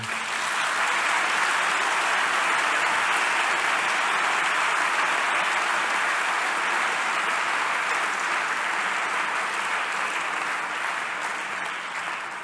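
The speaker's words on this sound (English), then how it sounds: "A big applause for the people." An audience at a closing plenary and ceremony of an academic conference applauds continuously for over twelve seconds, a dense, even wash of clapping heard at moderate distance.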